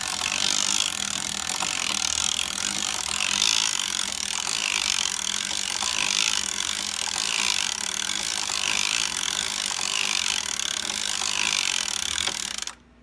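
A hand-cranked sock knitting machine working yarn, giving a steady rhythmic ratcheting and rubbing mechanical texture with regular pulses, fairly close and uninterrupted until it stops abruptly at the end.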